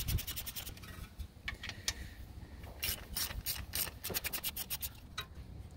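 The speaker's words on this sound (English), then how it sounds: "Now we can take off bolts uno and dos." A ratchet spins off the 13mm bolts of a thermostat housing on a Jeep Cherokee XJ, with rapid close clicking runs in several bursts, separated by short pauses and soft metallic rubbing.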